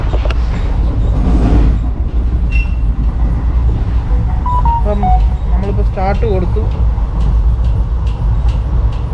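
A passenger train on the Hyderabad to Kottayam run travels at about 87 km/h, giving a loud, steady rumble of wheels and carriage with a brief rising squeal, while someone talks nearby over the noise.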